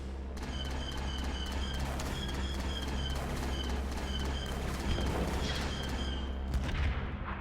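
Rapid anti-air gunfire in a Roblox Clone Wars roleplay game, a steady stream of regular shots over a constant engine drone as a fighter is brought down, no talk.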